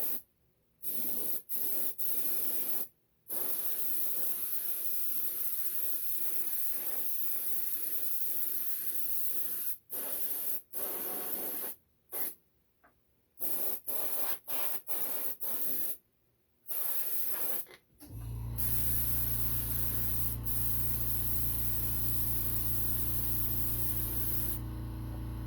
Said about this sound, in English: That's my compressor in the background.